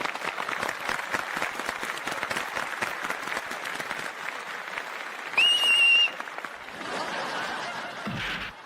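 Audience applause in a comedy show setting, a brisk dense burst of clapping that fades out midway, followed by a short bright whistle-like tone and a softer wash of crowd noise.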